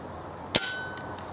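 A single sharp, loud crack of a GunPower Stealth 2000 air rifle firing outdoors without its silencer, followed by a faint metallic ring and two small ticks.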